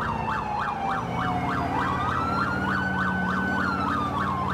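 An ambulance siren in the LCPDFR police mod for a video game wails in a fast, regular up-and-down yelp that holds loud and close throughout, over a steady engine-like drone.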